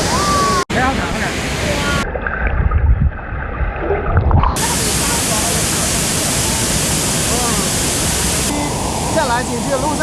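A steady, loud roar of falling water comes from a 40-degree hot spring waterfall pouring down a cliff face at Luoji Mountain in Sichuan, broadband and continuous, with brief interruptions and faint crowd sounds.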